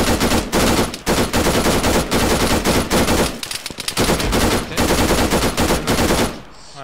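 Machine gun fire from the video game Arma 3 rattles in long, loud, sustained bursts with brief pauses between volleys, dominating the mix.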